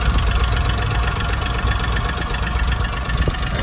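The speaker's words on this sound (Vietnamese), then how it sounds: "Máy nổ rất êm." A 2009 Chevrolet Spark idles with its bonnet open, its small engine running with a close, steady, even rumble and fine mechanical ticking, with no talk over it.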